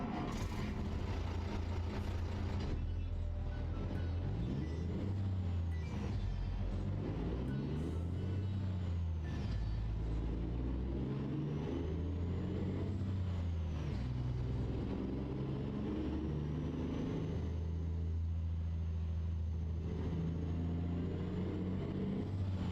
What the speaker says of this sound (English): Look at that truck. Beautiful truck.